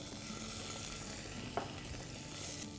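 Cumin seeds, a pinch of hing, and ginger and green chilli paste sauté in a pan, giving a low, steady frying hiss with one small pop.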